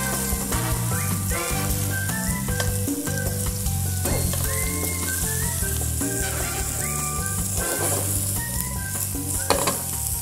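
Miso glazed whitefish and lemon sizzle in a hot pan in butter, making a loud, continuous crackling hiss with spitting pops. Music plays underneath throughout.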